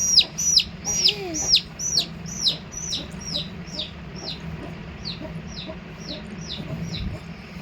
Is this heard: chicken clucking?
yes